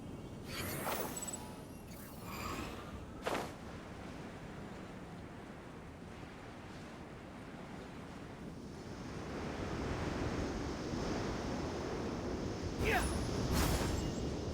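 The wind effect of the Squall Fury skill in the Genshin Impact video game sounds as a continuous rushing, surf-like roar that swells in the second half, with a few sharp bursts on top.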